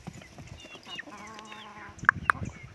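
Rhode Island chickens, including two roosters and a hen, cluck softly up close, giving a few tonal warbling calls and then two sharp short clucks near the end.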